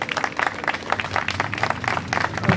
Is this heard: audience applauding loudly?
yes